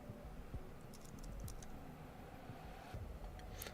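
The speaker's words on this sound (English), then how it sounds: "Sound of someone typing furiously at a keyboard echoes through the air" Rapid, irregular clicking of keys as someone types furiously on a computer keyboard, faint and close, with a continuous hiss underneath and no voices.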